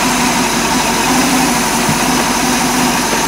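Tohatsu 5hp four-stroke outboard running after a slight throttle adjustment, a steady loud mechanical hum with constant vibration and an even idle throb throughout, no talking.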